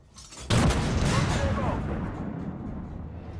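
A tank cannon fires with a single sharp, loud boom in a battalion-mode tank video game, Leopard 2AV, then rumbles and decays over the next few seconds amid ongoing battle noise.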